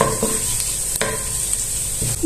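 Ground garlic and ginger sautéing in a pan over medium flame, a steady soft sizzle with a few sharp stirring clicks and scrapes, no voices.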